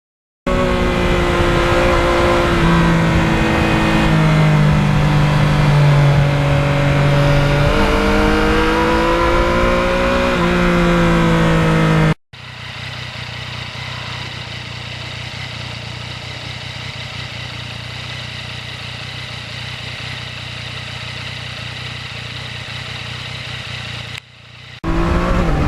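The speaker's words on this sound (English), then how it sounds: "this bike has such a nice quiet exhaust and it's really tuned for low-end" A 2020 Yamaha MT-09 motorcycle with a quiet, low-end-tuned exhaust drones steadily, its engine note rising and dipping under load, followed by a long even cruising hum with wind rush, then a brief cut.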